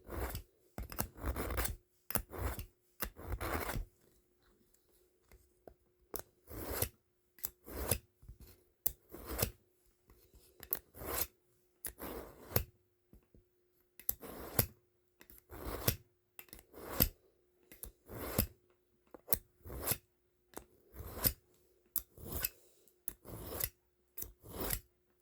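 An SOA scout knife being sharpened on a handheld sharpener, with repeated short rasping strokes in irregular bursts separated by brief pauses, close and fairly clear with no talking.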